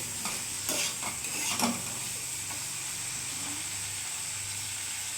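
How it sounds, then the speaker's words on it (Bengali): Kashmiri chili powder being stirred into a rohu fish curry with elephant foot yam in a pan: a steady hiss of frying runs throughout, with a few scraping stirs near the start. "একটু কাশ্মীরি লঙ্কা গুঁড়ো দিয়ে দিলাম। ভালো করে মিশিয়ে নেব।"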